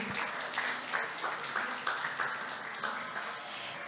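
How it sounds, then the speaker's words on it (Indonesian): An audience at a science talk on quantum technology claps once more, a fairly faint, continuous patter of many hands with slight rhythmic swells, heard at some distance. "Boleh tepuk tangannya sekali lagi"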